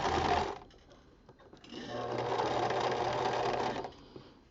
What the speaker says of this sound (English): I'm going to stitch right over the edge of my tie, and then I'm going to back stitch a couple times to secure it.